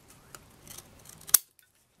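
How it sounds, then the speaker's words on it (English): Scissors trimming excess paper off the edge of a handmade card, a few light papery snips followed by one sharp, close cut and then near silence. "trim off any excess paper on either side"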